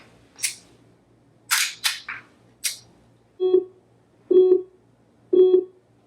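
Laser training pistol clicking as it fires: a few sharp dry snaps, then three spaced electronic beeps registering hits, each distinct and close in a quiet room.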